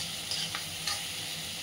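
Onion and chopped tomato fry in a pan with a steady, dense sizzle and a couple of faint stirring scrapes, close and continuous, with no talking.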